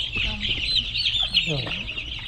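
Hens clucking near a chicken coop at an orphanage under construction, several short clucks and squawks close by over a constant high buzzing background, with faint human voices.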